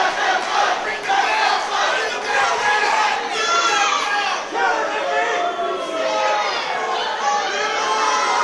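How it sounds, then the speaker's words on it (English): A wrestling-event crowd roars and shouts continuously, with loud chanting and many overlapping voices filling the arena. "The crowd here, the crowd wants to let them fight."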